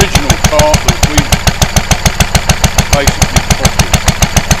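Close and loud, a cleaned-up original Lister D stationary engine on a cart with a radiator thumps along in an even, regular rhythm, someone speaking over the running engine.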